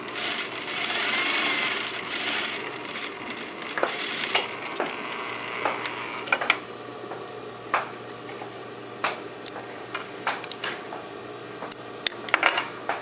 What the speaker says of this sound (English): Stitch as long as you can, right down on the same stitching line.